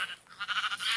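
A Minecraft sheep gives a short, wavering bleat, quiet and close, a brief burst of pulsing cries with nothing else around it.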